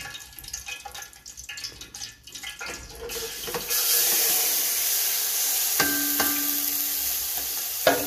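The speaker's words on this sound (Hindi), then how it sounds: "तो ऑयल हमारा गर्म हो चुका है, आवाज़ आ रही होगी आपको ऑयल की" Hot oil sizzles loudly in a pan for beef karahi, a steady close hiss that swells after some clattering and stirring, then holds constant with occasional metallic taps.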